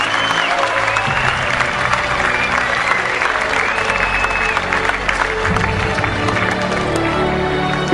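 Applause from a large crowd at a prize giving during the grand finale of a junior talent show, continuous clapping and crowd noise at steady volume with music and cheering mixed in, and voices faintly audible beneath.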